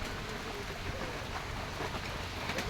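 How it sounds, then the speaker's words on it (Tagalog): Steady rain falling continuously as a dense, even hiss with a low rumble underneath, close and unbroken throughout, with no voices. "umuulan hanggang dito. Hindi na tumigil."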